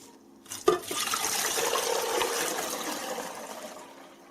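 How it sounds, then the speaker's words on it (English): Fermented cucumber pickle brine pours out of a jar in a steady rushing splash, starting with a sharp clatter and then tapering off as the liquid drains away, heard up close with no talking. "We drain the brine from the cucumbers."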